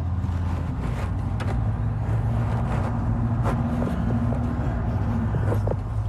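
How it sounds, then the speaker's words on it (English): Road traffic rumbles in the background, a continuous low drone of passing vehicles with faint intermittent knocks and scrapes on top, steady and moderately distant, with no voices. "You can hear the traffic there."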